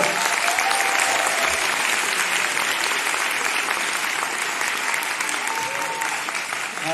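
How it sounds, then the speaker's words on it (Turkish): Sustained, dense audience applause fills a hall at the closing and awards ceremony of the 41st Istanbul Film Festival, loud and even throughout, with no speech over it. "alkışlarla sahneye davet ediyorum"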